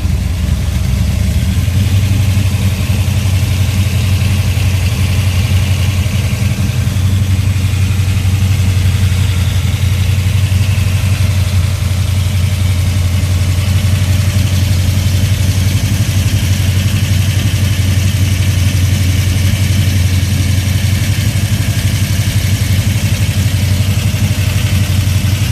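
Pontiac 455 Ram Air V8 on pump gas with an 850 Holley carburetor, idling loud and close with a steady deep rumbling lope that holds evenly throughout, no voices over it.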